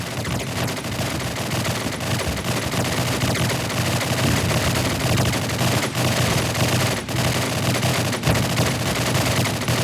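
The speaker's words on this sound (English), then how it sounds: "Sounds like someone's at the shooting range." Gunfire at a shooting range in the video game Call of Duty 4, heard as continuous, dense automatic fire with rapid overlapping shots throughout.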